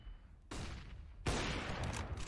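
Gunfire in Counter-Strike on the Inferno map during a G2 versus OG pro league match: two loud onsets of dense, sustained shooting, the second burst heavier and continuing to the end.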